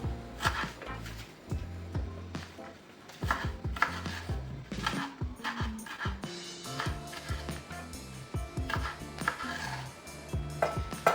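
Rapid, steady knife chopping of purslane on a board, close and crisp, with irregular bursts of quick cuts and brief pauses; no talking.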